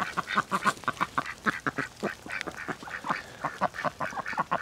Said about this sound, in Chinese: 这鸭子被雨水一冲